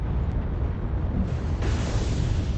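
Artillery strike explosion in the video game MechWarrior Online, a loud sustained rumbling blast that swells midway and rolls on continuously without pause.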